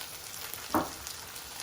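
Bell peppers drop into a frying paella pan with seafood, chorizo and chicken, a quick burst of sizzle rising over a steady low background hiss and then settling back down, all within a second or two.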